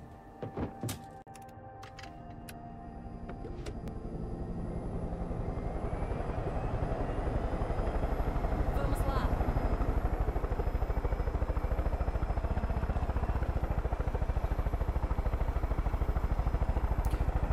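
A helicopter in the video game Far Cry 5 spools up after a few sharp thunks, its rotor chop and turbine whine building into a loud, steady drone that runs unbroken to the end, with no talking.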